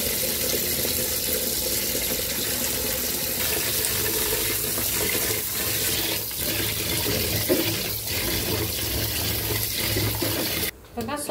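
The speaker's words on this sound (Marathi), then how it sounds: "मिक्स करून स्वच्छ धुवून घेऊया 2-3दा" Rice and lentils are rinsed under running water, a steady close stream splashing into a vessel as the grains are swirled, with a voice speaking over it and a brief pause near the end.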